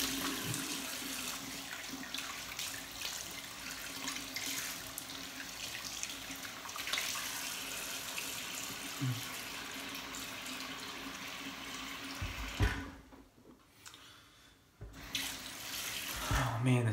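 A bathroom tap runs steadily while a double-edge razor is rinsed during a wet shave, a faint continuous hiss of water with brief splashes. The flow cuts out for a couple of seconds near the end, then starts again.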